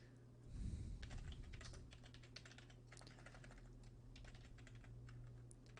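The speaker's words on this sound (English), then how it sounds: "I'm going to type it out first." Steady keyboard typing sounds close up during a podcast recording, with a continuous run of quick, light key clicks over a low background hum, with no talking.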